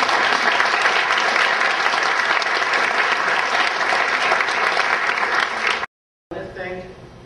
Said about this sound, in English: Let's give Ms. Hines a round of